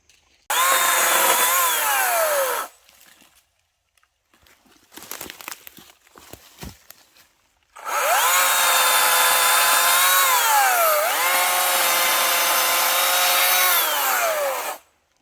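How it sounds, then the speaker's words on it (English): A chainsaw cuts wood for firewood at a campsite, two long loud bursts of high whining engine revving and bogging down through the cut, separated by a quieter gap of clattering and thumps. "Making firewood."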